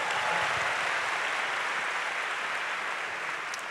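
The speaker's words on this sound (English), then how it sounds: "feel free to give a round of applause" Sustained applause from a live audience at a book-launch talk in a concert hall, a steady dense wash of clapping that stays loud and even throughout with no voices over it.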